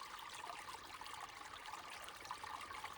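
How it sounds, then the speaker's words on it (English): A babbling brook runs steadily outdoors, an even, close rush and trickle of flowing water with no break and no voices. "I hope you guys can hear me over the Babbling Brook."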